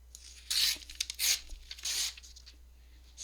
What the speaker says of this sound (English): So let me cut, or tear, I should say. Let me tear about this